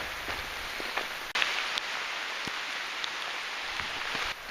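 Steady rain falls outdoors around an off-grid cabin, a close, even hiss with scattered drips and patters and no talk.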